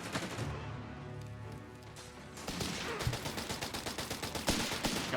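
Vickers machine gun firing in a Company of Heroes 3 match, a steady run of rapid, loud bursts taking over after a stretch of tonal battle ambience, continuing to the end.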